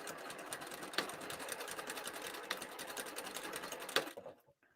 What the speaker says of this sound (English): 1/4 of an inch on my sewing machine is going to be along the edge of my presser foot.